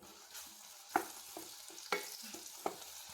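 A spoon stirs sugar into ghee with sliced nendran bananas in a pan. Three sharp scrapes land about a second apart over a quiet, low background, with no talking.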